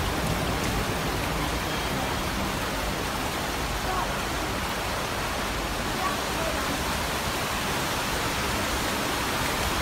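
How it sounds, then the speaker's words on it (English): A waterfall inside a cave produces a dense, even hiss of falling water that fills the space without pause for the full duration. "can you hear the waterfall?"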